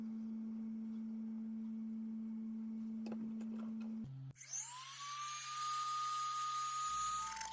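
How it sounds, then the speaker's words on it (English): A Dremel rotary tool grinds off spot welds on lithium battery cells from an electric motorcycle battery pack, starting after a quieter hum and whining loudly at high speed near the mic, steady and continuous for several seconds. "I cleaned those up with a Dremel tool, again being very careful not to puncture the cell"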